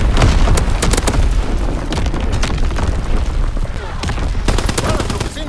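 Artillery barrages and incendiary bombing in Call of Duty WWII thunder as dense, loud booms and rapid gunfire bursts, packed close together throughout, with radio-style voices calling out orders over the din.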